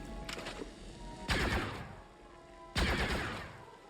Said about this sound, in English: The gun sounds good.